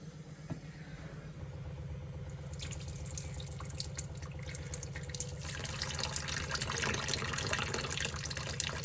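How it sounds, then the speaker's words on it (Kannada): Soaked legumes being rinsed in water and the water poured off, a steady splashing, trickling wash close by that grows fuller and louder partway through, with no voices. "ಇದನ್ನ ನೀಟಾಗಿ ತೊಳ್ಕೊಂಡ್ಬಿಟ್ಟು ಈ ನೀರೆಲ್ಲ ಬಗ್ಗಿಸ್ಬಿಡ್ತೀನಿ"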